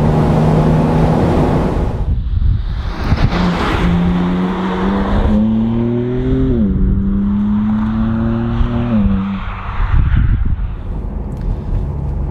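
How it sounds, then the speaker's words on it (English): A convertible sports car drives along the road with its engine droning loudly, pitch rising and falling through gear changes and acceleration, with faint wind and road noise around it. "This car is so poised on the road and the performance is just sensational."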